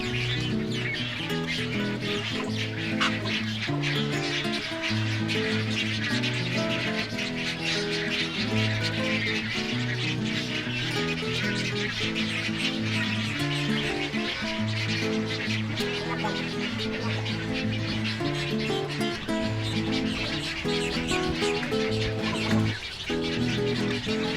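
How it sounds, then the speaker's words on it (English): A brood of Great Egret chicks calls insistently at feeding time in a wetland rookery, a dense, continuous chorus of harsh rhythmic squawks and clucks with overlapping birds nearby. "Feeding time for the Great Egrets brood."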